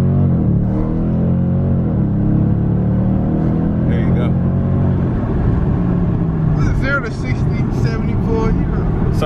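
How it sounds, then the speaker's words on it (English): Loud engine roar of a 2019 R/T car launching from a stop with spinning tires, sustained and close throughout, with people talking over it near the end. "Good tire spin."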